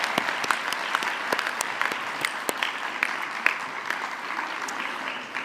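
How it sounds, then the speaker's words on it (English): At a health science school graduation ceremony, the audience applauds family and friends with steady, sustained clapping that fills the hall, some sharp individual claps popping out above the dense wash. "we give all your family and friends and individuals that you know are here celebrating with you a round of applause"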